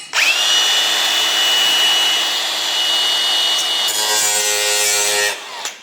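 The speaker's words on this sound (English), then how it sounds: "Oh, we need the grinder." An angle grinder cuts into the metal bonnet of a Honda Civic Type R project car, a loud, steady, close whine running nearly six seconds with a slight change in tone near the end; no one speaks.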